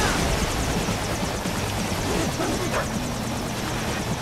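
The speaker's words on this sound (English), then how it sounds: "These helicopters are just really annoying" Steady helicopter rotor drone from the Metal Gear Rising video game, holding loud and continuous throughout under dense in-game noise.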